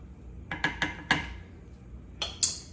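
Rice being stirred in a pot with a utensil, for smothered pork chops with rice and gravy, giving a handful of light clinks and scrapes against the metal, close and fairly quiet, in two short clusters with no talking.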